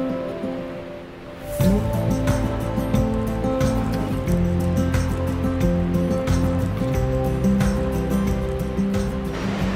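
A very large waterfall rushes in a steady, dense roar of falling water that swells sharply after a brief quieter start and stays loud and continuous, with faint voices underneath.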